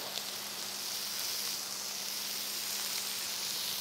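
Lamb chops (Burgos lechazo) searing in a pan, giving a steady, moderately quiet hiss and sizzle throughout with no talking.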